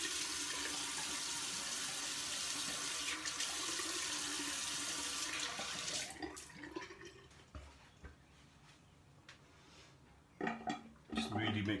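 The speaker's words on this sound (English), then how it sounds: "I'm going to add a bit more water to that beautiful lather. Just get it really shiny and whipped up." Water added to shaving soap lather while whipping it: a steady broadband rush of running water for the first six seconds, then quieter wet brushing and squelching in the bowl with louder bursts near the end.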